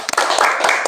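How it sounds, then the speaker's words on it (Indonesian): A classroom of students claps briefly for a classmate, with a short burst of scattered, close hand claps. "Tepuk tangan dong buat Arlaya."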